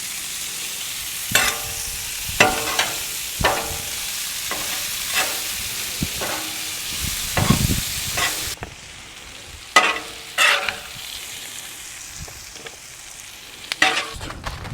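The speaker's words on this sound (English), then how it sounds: "Got me a serrano pepper. I'm gonna go ahead and just throw it on the grill." A serrano pepper sizzles in oil on a grill with a steady, bright hiss, punctuated by sharp scraping and stirring bursts, heard close and alone.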